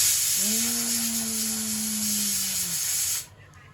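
A kitchen pressure cooker lets out one long, steady whistle over a strong hiss of escaping steam. The sound is close and loud and cuts off abruptly near the end.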